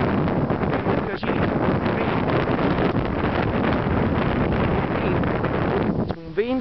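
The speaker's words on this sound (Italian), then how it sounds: "c'è un vento" Strong wind blowing at sea, buffeting the microphone as a loud, continuous broadband rush, with a voice briefly speaking near the end.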